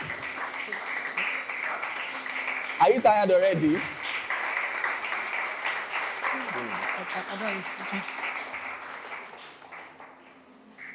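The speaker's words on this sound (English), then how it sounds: "Please keep the clap going." An audience at a school debate conference applauds steadily as a speaker is welcomed on stage, a dense, continuous wash of clapping running the whole stretch while a voice speaks briefly over it.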